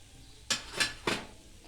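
A spoon scrapes three quick times against a pan of onion gravy mixed with red chili powder, salt, kitchen king masala, garam masala and turmeric, each stroke a short near clatter over a quiet background.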